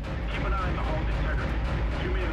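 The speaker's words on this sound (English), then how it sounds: "And we have these giant mass drivers." Giant mass driver cannons fire at asteroids in the sci-fi video game Dead Space, a dense continuous roar of heavy booming blasts with a person talking over it.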